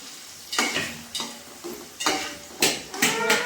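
Onion frying in a pan for biryani, with a spoon stirring and scraping in regular bursts about every half second over a faint sizzle. Close and clear, with no voices.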